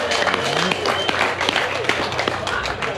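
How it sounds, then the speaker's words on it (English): An outdoor festival crowd at a chilli-eating competition claps in a round of applause, a dense, continuous patter of many hands with scattered sharper claps. "Everyone give Maya a round of applause."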